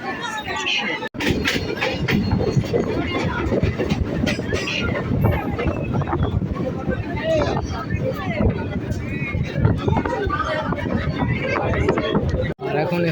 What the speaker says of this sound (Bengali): আর ছেড়ে দিল আমাদের ট্রেনটা এখন